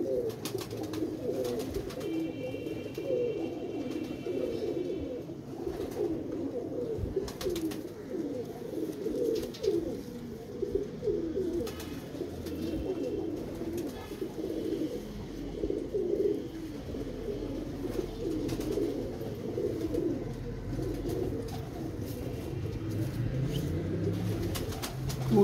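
Several pigeons cooing continuously, overlapping low burbling calls with occasional flutters and clicks, steady throughout with no voices.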